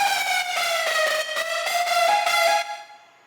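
A bright trap lead synth built in Ableton's Analog plays a short run of punchy staccato notes, then holds a final note that fades out.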